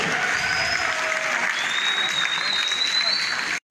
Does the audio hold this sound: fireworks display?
no